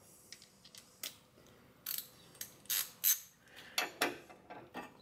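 A ratchet wrench clicks through quick, faint strokes while loosening a 12 mm bolt on a 2007 Honda Civic, the clicks coming in short uneven bursts at close range.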